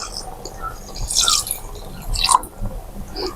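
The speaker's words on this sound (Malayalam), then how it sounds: "ഇതാ ഇതിലേക്ക് തേങ്ങാപ്പാൽ ചേർത്ത് കൊടുക്കാം" Coconut milk is poured into cooked pigeon pea payasam, making close, wet splashing and dripping sounds in short bursts with soft squishy stirring in between.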